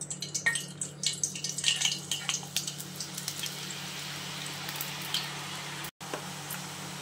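Sev dough pressed from a mould into hot oil sizzles and bubbles steadily at close range, with soft irregular crackles and drips over a constant frying hiss, no voices present.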